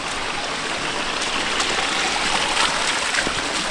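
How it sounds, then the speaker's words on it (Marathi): Rainwater rushes through a roadside drain channel during a downpour, a steady, close gushing and splashing that stays constant for the short stretch. "सारणीतून पाणी वागायचं आता."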